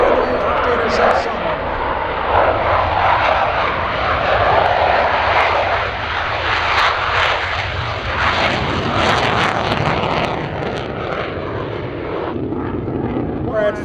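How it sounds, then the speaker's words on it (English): An F-16 fighter jet roars down the runway on takeoff at an airshow, a loud continuous jet rumble that swells and holds for the whole stretch while someone talks over it. "Look to the right, you see an F-16 heading down the runway off to Interception."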